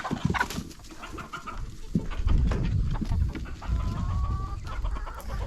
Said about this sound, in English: But first gotta let out the chickens.